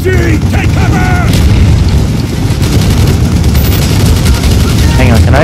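In the Call of Duty: Black Ops video game, a loud grenade blast and dense machine-gun fire rumble continuously, with game voices shouting over the din.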